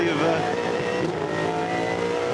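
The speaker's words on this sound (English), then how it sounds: "And allows Scaife an easy entry through under brakes into the Holden hairpin" A Holden Commodore touring car braking hard into the hairpin at Pukekohe, a loud, close engine roar with shifting pitch during the 2001 Shell Championship race.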